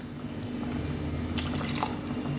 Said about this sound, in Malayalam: ആ തേങ്ങാപ്പാലും കൂടി അതിലോട്ട് ഒഴിക്കണം.